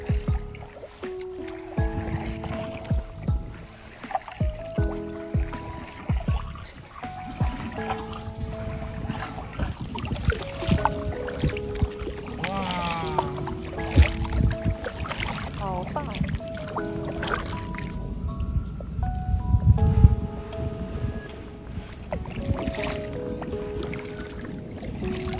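A small rowing boat glides through a weedy waterway past rapeseed flowers, under a bridge and up to an island; soft water sloshes and paddle strokes sit low beneath steady background voices or music.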